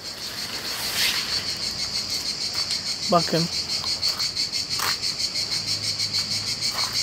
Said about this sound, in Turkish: Cırcır böcekleri var burada.